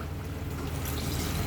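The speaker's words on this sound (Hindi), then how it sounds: "अभी हमारे आलू रेडी हो गए हैं, अभी हम इसमें पानी ऐड करेंगे।" Water pours into a pot of cooked potatoes for Eid pulao, a steady rushing splash throughout, fairly loud and close, with no talk.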